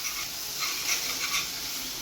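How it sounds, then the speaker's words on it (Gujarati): Ginger, chili and garlic chutney hits hot butter and hing for palak paneer, giving a soft, steady sizzle with light stirring, fairly quiet and close, with no talk. "આ ઉપરથી નખાઈ રહ્યું છે કંઈક વિશિષ્ટ પ્રકારની ચટણી નખાઈ રહી છે"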